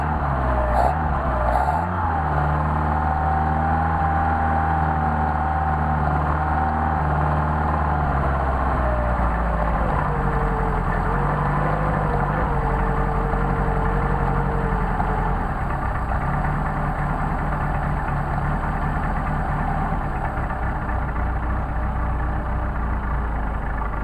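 A Mercedes 190SL engine idles on Solex carburetors, a steady, close, even drone that holds at one speed, then settles slightly lower partway through and runs on unchanged without voices.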